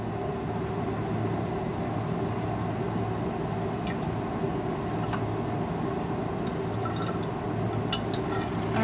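Solution being rinsed into a volumetric flask while preparing a stock solution: a steady liquid trickle over a constant low hum, with a few faint glassy clinks.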